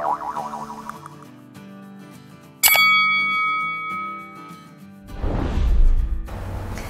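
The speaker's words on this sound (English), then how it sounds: "ring the bell to never miss an update" A bright notification bell ding strikes once around the three-second mark and rings out with a sustained shimmering tail over soft background music, followed by a burst of broadband noise.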